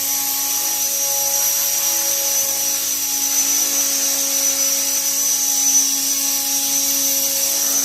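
A small collective-pitch remote-control helicopter's rotor and motor whine steadily at close range in a garage, a constant high-pitched buzzing drone.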